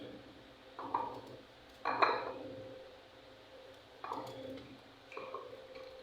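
Chayote is chopped into small pieces with a knife, four or five separate sharp knocks of blade against board spaced about a second apart, close and fairly quiet.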